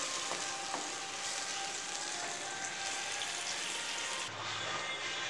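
Ground masala paste sautés in hot oil in a pan with a dense, continuous sizzle and crackle that holds at an even level throughout, with no voices.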